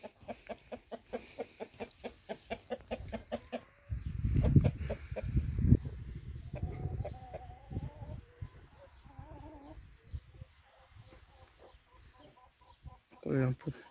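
Australorp hens on a farm cluck in quick repeated bursts, then a burst of nearby handling noise and rustling, with more scattered clucking and calls afterward at moderate distance.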